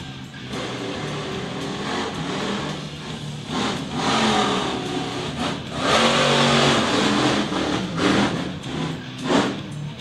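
The Equalizer, a world champion monster truck, revs its engine hard at an arena event in Middletown, New York, in repeated surging bursts that swell and fade over ten seconds, with commentary faintly underneath.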